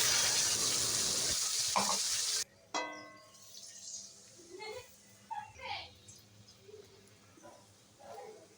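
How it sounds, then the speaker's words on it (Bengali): Bay leaf, dried chilli and panch phoron crackle in hot oil with a loud, dense sizzle for about two seconds, cutting off abruptly before a voice talks over a quiet kitchen. "গরম তেলে তেজপাতা, শুকনো লঙ্কার পাঁচফোড়নের ফোড়ন দিয়ে দিলাম"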